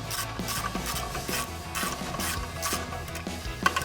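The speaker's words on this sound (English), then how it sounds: "I can go back to my 1/2 inch drive with my 19 millimeter" A 1/2 inch drive ratchet with a 19 mm socket turning out brake caliper bolts on a Toyota Tundra, steady rhythmic pawl clicking repeated in even strokes, close and clear, with no talking.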